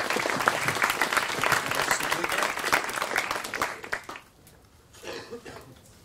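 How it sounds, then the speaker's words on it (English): Audience applause at an Inspirationlab talk on the future of money, a dense burst of clapping for about four seconds that fades out, followed by a brief softer patter. "I would like to give him a really big applause."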